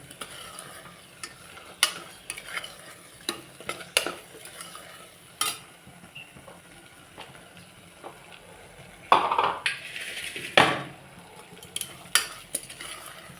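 A spoon stirs mint leaves into a baby jackfruit biryani mix, making repeated close scraping and clinking strokes against the pot over a soft sizzle, with a busier burst of scraping toward the end.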